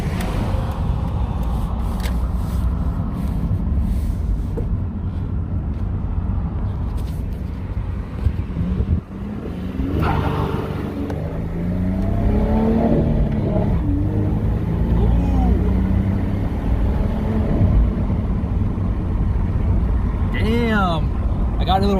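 Twin-turbo V6 Ford Mustang with its hood popped accelerating under hard throttle, a loud close engine drone rising and falling in pitch through the run, with wind buffeting and someone talking over it.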